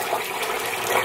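Tap water runs and splashes in a steady gush while a makeup brush is rinsed, a brief, fairly loud continuous stream with no talk.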